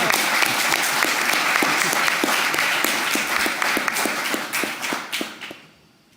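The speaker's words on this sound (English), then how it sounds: "I did hear one person clapping, but I think it does, I hope I can get more." An audience at a climate action event applauds, a dense burst of many hands clapping at once that holds steady for several seconds, then thins and fades out near the end.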